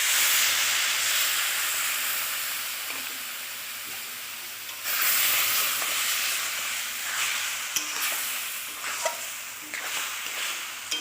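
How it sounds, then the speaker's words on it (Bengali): Water poured into a pan of semolina cooking with turmeric and paneer sets off a loud, continuous hiss and sizzle, rising in a fresh surge of steam partway through, with scattered spoon scrapes. "এবার আমি জল দেবো পরিমাণ মতো।"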